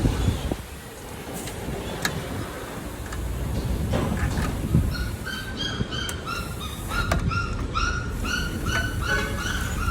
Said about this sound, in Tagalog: Yan, maingay yung tuta natin.